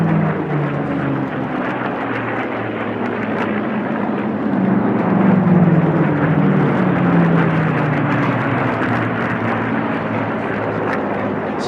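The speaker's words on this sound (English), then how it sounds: "Let's listen to the beautiful sound of these Rolls-Royce Packard Merlins." Rolls-Royce Packard Merlin aircraft engines at national championship air races produce a loud, continuous roar that swells slightly mid-way as the planes pass, without any talk.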